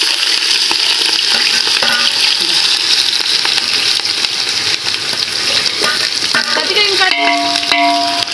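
Onions and green chillies frying and being stirred in a pan for biryani, a steady close sizzle with intermittent scraping of a utensil and a few clinks toward the end.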